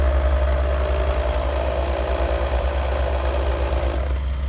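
A Toyota manual transmission in neutral as the clutch is let out, giving a steady low engine idle with a droning mechanical hum and faint rattle, continuous and close, ending with a slight change near the end.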